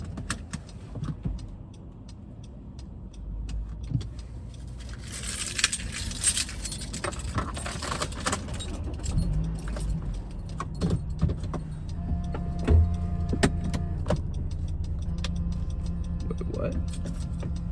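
A set of keys jangles in short metallic bursts, close by, alongside car noises and clicks, with people talking at times.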